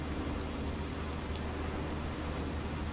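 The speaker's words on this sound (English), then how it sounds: "it's only just started raining" Steady rain in the Farming Simulator 19 farming game, a dense even hiss of drops on surfaces with no change in intensity, no voices.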